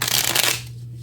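Tarot cards are shuffled close by in one quick riffling burst lasting about half a second, then a faint hum remains.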